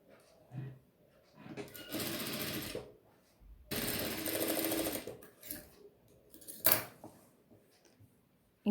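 A sewing machine stitches a folded half-inch thigh hem on boxer briefs in two longer close, whirring runs, followed by a few short bursts and quiet pauses between.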